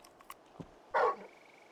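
A single short dog bark in the video game Final Fantasy XVI, preceded by a few faint soft sounds, quiet overall and heard alone.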